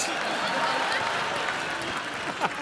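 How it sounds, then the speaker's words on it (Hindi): A studio audience on a television comedy talk show claps in a broad, even wash of applause, moderately loud and sustained, with voices faintly mixed in beneath. "सो एक बार फिर से आप सबकी जोरदार तालियों के बीच इनवाइट करना चाहूंगा मैं इंडियन टेनिस सुपरस्टार"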